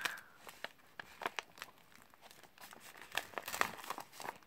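Crinkly paper of a gift bag and wrapping paper on a Halloween swap package rustles and crackles in quick, irregular bursts, close and fairly quiet.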